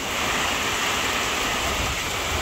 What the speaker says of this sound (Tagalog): Grabe po kalakas ng ulan.